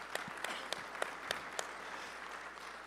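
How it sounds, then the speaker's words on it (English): An audience at a training session claps in a steady, even patter of applause, with a few sharper individual claps standing out, at moderate loudness throughout. "That's a good clap."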